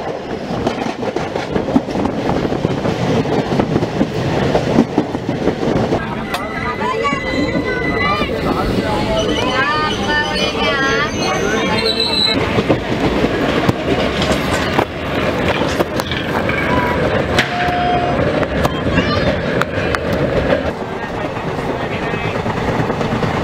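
A Konkan Railway train runs past with a loud, continuous rumble and rhythmic clatter of wheels on rails, while a voice talks over it throughout.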